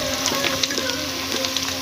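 Chicken pieces for chips chicken sizzle and crackle steadily in a pan over a low gas flame, a dense continuous hiss with small pops throughout, close and alone.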